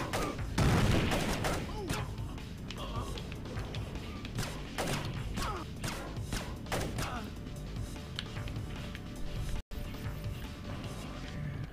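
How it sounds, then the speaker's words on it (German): Gunfire in the Splinter Cell video game, set in the Kalinatek building, comes as a dense fusillade of rapid shots and impacts, loud and sustained, with a brief dropout near the end. "Können ruhig ballern, was das Zeug hält."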